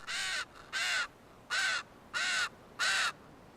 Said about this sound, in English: The chicks are constantly begging for food.